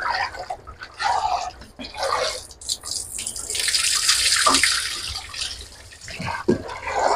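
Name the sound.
water washing mung and masoor lentils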